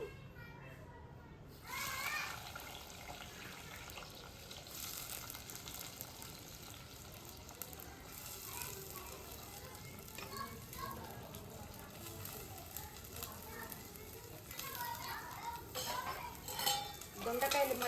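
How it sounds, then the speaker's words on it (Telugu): Ivy gourd fries in oil in a clay pot with a continuous low sizzle and occasional stirring clatter, while children play and chatter in the background. "ఫస్ట్ దొండకాయలు వేయించుకుంటున్నాను"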